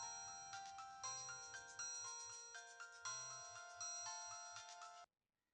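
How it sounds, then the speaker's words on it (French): A telephone ringtone plays alone in a domestic scene, a bright repeating melodic chime pattern that sounds steadily for about five seconds and then cuts off abruptly. "Le téléphone sonne."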